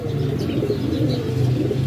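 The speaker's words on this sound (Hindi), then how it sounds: "तो ये माशाल्लाह से जी ब्रांड बनाने वाले कबूतर हैं" Pigeons cooing close by in a loft, a soft, continuous low murmur of overlapping coos with faint chirps above, no voices.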